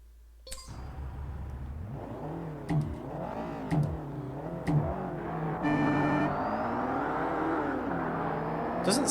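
A turbocharged car engine in the racing game Forza Motorsport revs and rises in pitch in repeated gear-change sweeps, with a brief whistling tone partway through, steady and moderately loud.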